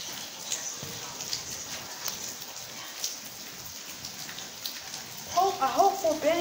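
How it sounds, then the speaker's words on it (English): Steady rain hisses outdoors in Columbus, Georgia, during a siren test on a cold, windy day, with scattered close drops tapping. The rain stays fairly even, and a brief livelier burst of sound comes near the end. "I know I'm recording in the rain"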